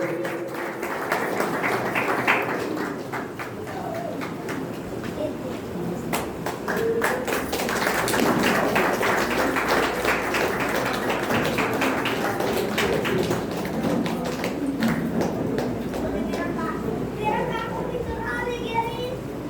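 Applause from an audience at a celebration, a dense and steady wash of clapping that runs throughout, mixed with crowd chatter and children's voices.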